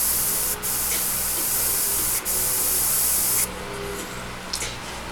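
An airbrush sprays paint freehand on a Saquon Barkley portrait, a loud, steady hiss in several long bursts broken by short pauses, ending in softer, fainter spraying.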